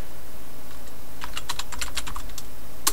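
Commands are typed on a computer keyboard: a quick run of close key taps that starts partway in over a steady background hum, then a single firmer keystroke near the end.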